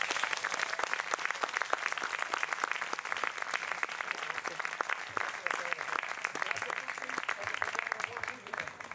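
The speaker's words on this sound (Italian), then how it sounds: "Ringrazio tutti e un grande applauso." An audience at an outdoor concert in Lusia applauds in a steady, dense patter of many hands that holds for the whole stretch, sounding somewhat distant and fairly soft.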